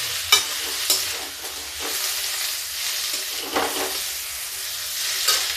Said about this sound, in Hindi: ये देखिए, ऐसे ही आप भी काटिए। सबको हम थोड़ी देर भून लें।